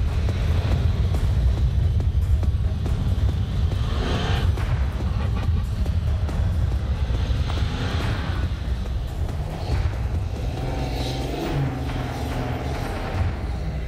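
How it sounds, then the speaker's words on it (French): A Volkswagen Touareg's engine roars under throttle while the SUV climbs and crosses sand dunes, a loud continuous rumble that surges and dips as the throttle is applied, with the drone of the vehicle running throughout. "je remets les gaz pour pas m'enfoncer"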